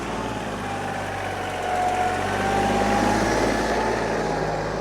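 A Kubota GL338 compact tractor engine runs steadily at a moderate distance, its hum rising slightly in the middle as the machine turns in place.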